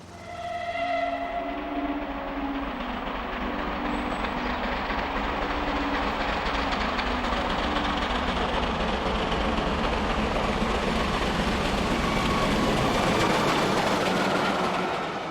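Taw Valley steam locomotive labouring uphill from Petersfield towards Buriton Tunnel on the South Downs, a steady loud rumble with rhythmic rail clatter throughout and faint whistle-like tones near the start.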